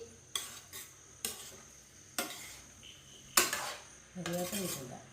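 A spoon stirs one-pot chicken stew with salt in a metal pot, four or five distinct clanking scrapes spaced about a second apart, followed by a soft sizzle, close and quiet with no talk.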